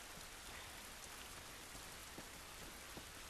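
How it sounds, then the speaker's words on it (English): Steady rain falls outside, a dense even hiss of drops hitting surfaces, with a few louder individual splats standing out, all fairly quiet with no voices. "It's raining"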